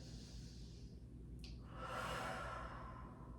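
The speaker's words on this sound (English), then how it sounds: "In this position, take a really deep breath in." A deep breath drawn in and let out during a Pilates mat stretch, a soft airy inhale followed by a longer, fuller exhale, close and quiet with no talking.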